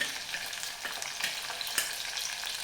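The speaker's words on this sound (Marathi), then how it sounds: "आलं, लसूण, कोथिंबीर आणि मिरची ही छानपैकी परतून घेऊया।" Ginger-garlic paste and onion fry in a pan with chili and coriander for a Konkani-style prawn curry, giving a steady, soft sizzle with occasional crackles and stirring.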